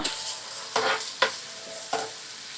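Onions sauté in a pan on the stove, giving a soft background sizzle broken by four brief scraping stirs, close and fairly quiet, with no voices.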